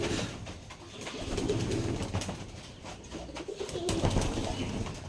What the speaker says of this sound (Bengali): তো দেখতে পাচ্ছেন সব কবুতরগুলো উপরে বসে রয়েছে কারণ আমি হাতে ধরে কবুতরগুলোকে সবাইকে গোসল করে দিয়েছি